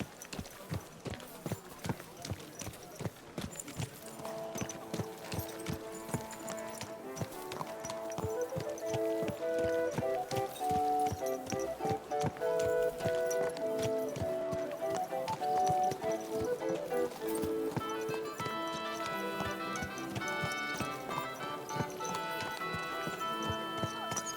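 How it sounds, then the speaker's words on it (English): Horse hooves clip-clop through a busy town in Kingdom Come: Deliverance II, their steady beat running under loud layered music and chatter from passers-by. "Watch out with that horse."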